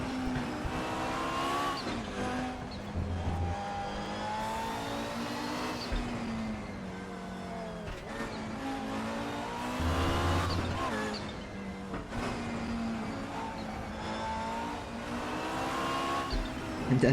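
An Audi Quattro GTO engine drones and revs around the Nordschleife, rising and falling through gear changes with tire noise, loud and close, no talk.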